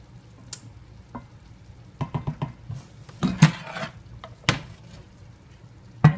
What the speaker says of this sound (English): Give it a quick stir and just even everything out.